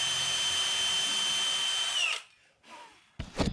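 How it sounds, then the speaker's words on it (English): A power drill boring through a shim into a wooden exterior door frame, a steady high whine for about two seconds that winds down, then a brief second burst after a pause. "I'm only drilling through far enough till I touch the double studs on the inside."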